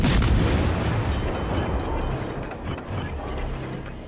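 Naval guns fire in the warship battle game World of Warships: Legends, opening with a heavy booming salvo. The rumble then rolls on and slowly decays over a few seconds, with no voices.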